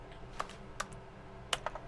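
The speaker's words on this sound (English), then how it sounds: "Why is it every time I press E, it makes a keyboard noise?" Soft, scattered computer keyboard key clicks, about four presses, heard as the typing effect for the E key in The Stanley Parable, alone in a quiet room.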